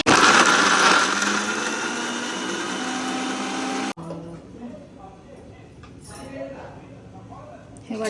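A kitchen mixer grinder whirs loudly and steadily while grinding a masala paste of onions for village-style chicken, then cuts off abruptly, followed by softer clinks and handling noises with people talking.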